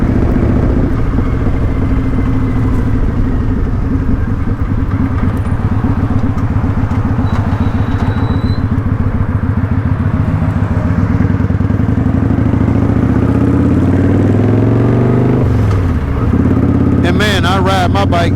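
A motorcycle engine drones loudly and steadily throughout a ride, with a shift in pitch midway, wind roar, and a voice talking over it.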